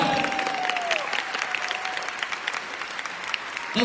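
An audience claps at a live anniversary speech event in India, a dense sustained round of applause that carries on for several seconds without talk.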